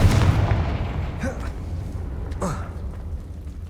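A fiery Confringo spell explosion in the Hogwarts Legacy video game. One heavy boom opens with a deep rumbling blast that slowly trails off, with faint voices over the fading roar.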